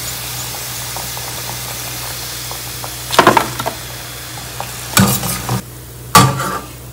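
Pieces of batti dough fry crisp in hot oil with a low steady bubbling, broken by a few sharp bursts of sizzling and clattering as pieces are moved or lifted, close and without talk.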